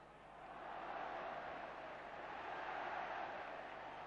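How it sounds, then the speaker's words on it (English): Football crowd noise from a Leeds United versus Manchester United FA match in 1976–77, a dense, steady roar of stadium cheering that holds at a fairly loud, even level throughout with no clear words. "Crowd enjoying that"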